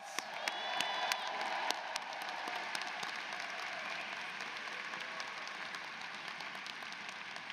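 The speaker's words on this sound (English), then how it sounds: "Let's give them a round of applause" A large commencement crowd at the University of Washington School of Law applauds the graduating class, a steady wash of clapping with some cheers and whoops, loudest at first and then holding level throughout.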